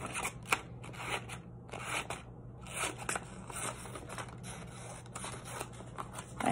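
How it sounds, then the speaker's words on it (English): Scissors cut into paper for a broom craft, making a series of crisp, close snips and rustles in irregular bursts. "We're gonna make cuts into the paper."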